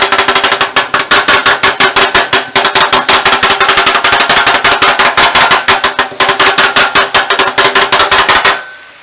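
A knife rapidly dices cooked fajita vegetables on a cutting board, a loud, continuous run of sharp, evenly spaced chopping taps that keeps going for several seconds before stopping.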